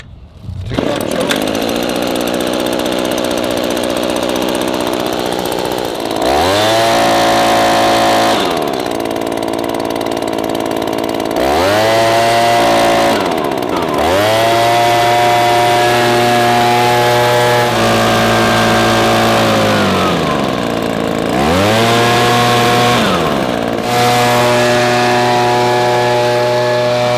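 A two-stroke Echo PB-2620 handheld leaf blower runs loud and close, its engine revving up and settling back to idle several times in a steady cycle, with no talking.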